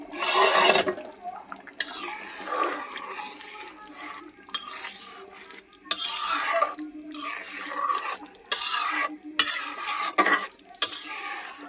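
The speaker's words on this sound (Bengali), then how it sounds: "আমি পেঁয়াজ আর পোলাও চালটা ভালো করে বাইজা" Onions and polao rice fry in a pot, a spoon stirring and scraping repeatedly against the metal over a steady sizzle, close and without talk.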